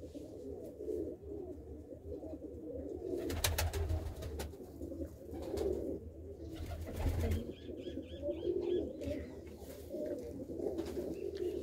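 Pigeons with white eyes coo in a loft, the soft repeated calls carrying steadily throughout with a low rumble underneath and a few brief thumps around the middle.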